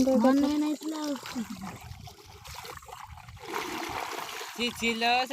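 Water splashes and trickles during outdoor bathing with soap, in bursts of pouring and dribbling between spoken voices, close and fairly loud.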